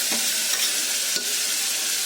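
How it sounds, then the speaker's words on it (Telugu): Chopped tomatoes, onions, potato and carrot sizzle in a hot pan for vegetable biryani, a loud steady hiss broken by a few scraping stirs of the spoon. "ఇవన్నీ వేసుకొని కూడా కొంచెం సాల్ట్ వేసుకుంటే అవి తొందరగా ఫ్రై అయిపోతాయి"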